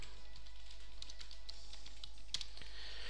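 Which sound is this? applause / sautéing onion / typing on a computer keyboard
typing on a computer keyboard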